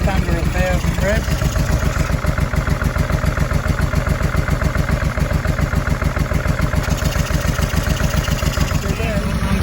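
A 2005 Honda NT650V motorcycle engine idles steadily just under 1,000 rpm after carburetor synchronising, its even low thumping pulse loud and close throughout, with no talk over it.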